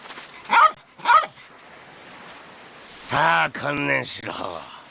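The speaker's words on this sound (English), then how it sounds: "Now we're chasing a dog." A dog in the Yakuza 3 Remastered video game barks twice in quick succession, followed by game characters talking loudly over a low background ambience.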